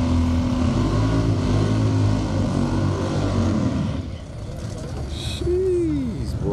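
Drag race cars accelerating hard at a dusk-to-dawn shootout: a loud, roaring engine wash that fades after a few seconds, followed by quieter crowd noise, with people talking over it.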